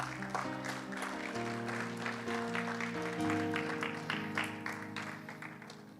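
A church congregation applauding and cheering the Lord during a French-language sermon, steady clapping over sustained tones from instruments, continuous and fairly close throughout.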